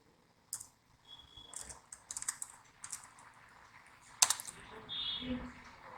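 Computer keyboard keys clatter in uneven bursts of typing as HTML code is entered in Notepad, close and moderately loud with a sharp click partway through.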